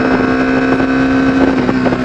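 Bajaj Dominar 250 BS6 motorcycle, 2022 model, held at high RPM close to the microphone: a steady, strained engine whine with slight wavering and wind noise, no talking.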